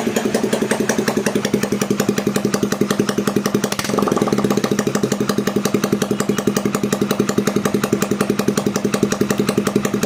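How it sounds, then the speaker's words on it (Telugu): A rebuilt motorcycle engine, with a freshly repaired clutch bearing, idles steadily up close in a continuous even throb, with a brief slight change in tone partway through and no voices over it. "ఒకసారి మీరు ఇంజిన్ బీటింగ్ అని ఇనేసేయండి"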